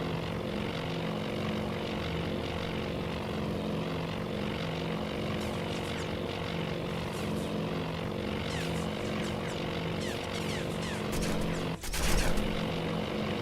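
Enemy fighter aircraft in the naval game Task Force Admiral, a steady droning propeller-engine hum holding throughout with faint crackles of gunfire and a short sharp burst near the end.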